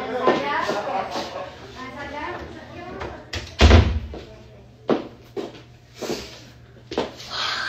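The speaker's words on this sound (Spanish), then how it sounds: "déjenme cerrar la puerta" A door being closed: a heavy thud at close range during a casual livestream at home, followed by a few lighter knocks, with someone talking before and after it.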